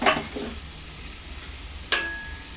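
Chicken pieces coated in turmeric sizzle in a pan for a chicken and sorrel-leaf curry, with a sharp scrape of stirring at the start and another clattering stir about two seconds in over a steady low fry.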